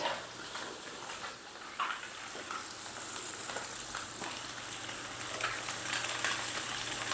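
Fish fries in a pan with a steady sizzling hiss and scattered crackles and pops, moderately close and uninterrupted by speech.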